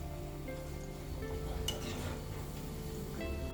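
Pieces of Attukal cake fry in oil over a low flame, giving a steady, close sizzle throughout, with a brief clink and scrape near the middle as the pieces are turned over.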